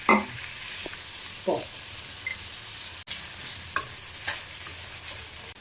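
Onions, tomatoes and garlic sautéing in oil for dried-fish thokku, a continuous close sizzle broken by scattered spoon scrapes and soft pan knocks.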